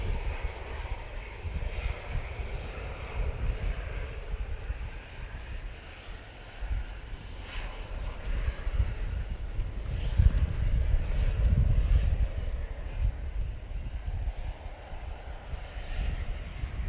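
An easyJet airliner departs Manchester Airport for Geneva in windy conditions, its engines a steady, fairly close rumbling roar that swells toward the middle and holds, with wind buffeting throughout.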